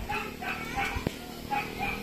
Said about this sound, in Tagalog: dito lang muna ating vlog at maingay, daming aso